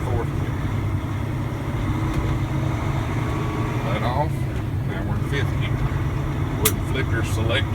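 A truck engine with a 10-speed transmission drones steadily at close range while gears are shifted, its low hum changing pitch around each shift, with someone talking over it.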